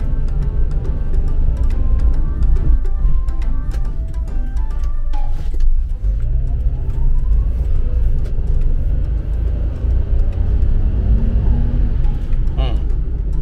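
A Daihatsu Hijet kei van with switchable four-wheel drive, engaged in 4WD, drives along with a steady low engine and road rumble throughout while someone talks over it.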